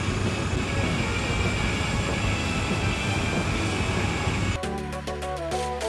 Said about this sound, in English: Step into the world of locomotives in Train Sim World 2.